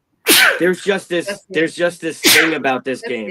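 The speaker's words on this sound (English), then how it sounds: "I'm gonna keep sneezing as you talk" A single loud, sharp sneeze bursts out close by at the start, followed by a person talking, then a second short sneeze-like burst cuts in partway through the speech.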